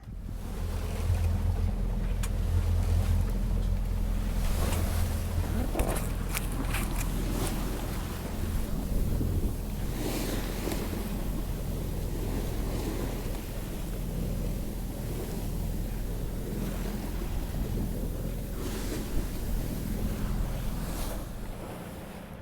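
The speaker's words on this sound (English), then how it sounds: "So there's a very strong tide here with the wind against it." Rushing water of a strong tidal race off the Kerry and Clare coast, wind against the tide, heard from aboard a Rival 41 sailboat: a loud, continuous roar of turbulent water and wind buffeting the microphone.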